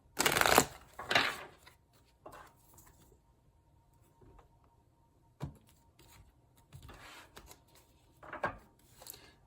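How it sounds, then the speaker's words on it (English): Tarot cards being shuffled, several crisp riffling bursts at the start and again near the end, with quieter handling rustles between, close and fairly soft, no talking. "And last shuffle"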